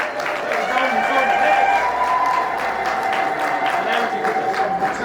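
A wedding crowd claps and cheers in a steady, dense patter, mixed with singing or ululating voices and talk throughout.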